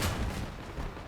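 A weapon fires in the vehicle combat game Crossout: one loud, booming blast right at the start, then a rough low rumble that dies away across the second.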